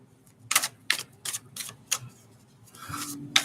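Tarot cards being shuffled by hand in a series of crisp riffling bursts, about eight sharp flurries spaced unevenly, close and loud with quiet gaps between.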